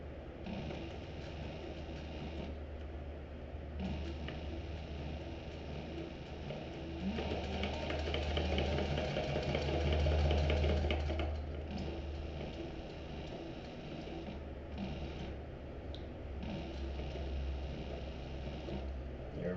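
A sewing machine stitching a backpack gusset piece runs continuously with a steady mechanical whir and rattle, swelling a little louder near the middle before settling back.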